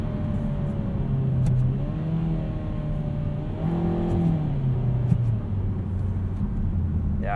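Steady engine drone from inside a 2020 Kia Soul X-Line as it accelerates, pitch climbing and dropping in stepped simulated manual shifts over road rumble, with no talk.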